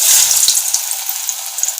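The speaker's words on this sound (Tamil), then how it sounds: "ஆயிலுக்குள்ளே போட்டுக்கோங்க" Masala vada patties of spiced lentil dough drop into hot oil and fry with a steady, bright sizzle and crackle, a few soft plops near the start, close and fairly loud with no talking.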